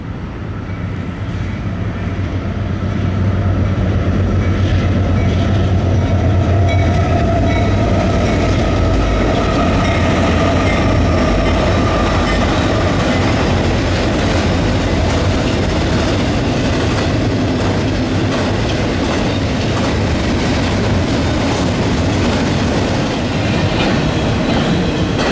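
A Norfolk Southern eastbound intermodal freight train with a GE locomotive trailing rolls past close by on the Chicago Line, a long steady rumble with rhythmic clickety-clack of wheels over rail joints continuing without letup.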